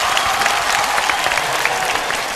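A television game-show studio audience applauds diver Xiu Rui. The steady, close clapping has crisp individual hand claps standing out from the crowd, and it fades slightly at the end.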